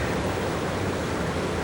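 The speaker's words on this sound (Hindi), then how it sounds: "यार ये झरना तो बहुत डरावना।" Steady, dense roar of rushing water from a waterfall, continuous and loud with no breaks, filling the scene alone without voices.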